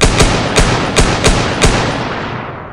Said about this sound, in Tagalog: halos sabay-sabay na putok ng mga Kastila sa kinalalagyan nila sa dilim.